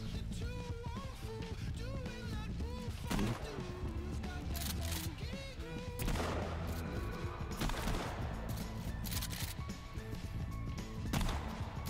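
Gunfire bursts and impacts in the survival horror game Sons of the Forest crack out repeatedly amid music, effects and overlapping talk from several players.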